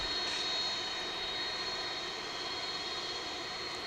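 A McDonnell Douglas MD-11 jet at DFW International Airport produces a steady, loud engine roar with a sustained high whine, continuous for the full span without talk.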